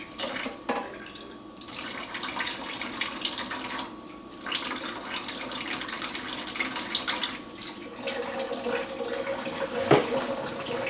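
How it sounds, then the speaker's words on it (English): Water running from a tap into pasta salad dressing made with Heinz apple cider vinegar, a steady rushing stream with brief pauses and a splashy change in tone near the end, fairly quiet and alone. "Now we need just a little bit of water."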